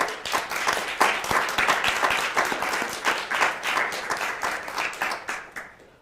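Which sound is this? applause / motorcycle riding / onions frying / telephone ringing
applause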